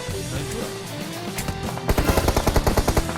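Rapid automatic gunfire in the PUBG Mobile battle royale game, a steady run of about a dozen sharp, evenly spaced shots that starts partway through and rises over a background of game noise.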